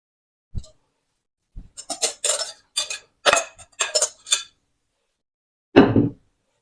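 Beaten eggs and vegetables are mixed in a bowl, heard as a run of sharp, close clinks and scrapes of a utensil against the bowl, separated by brief silences.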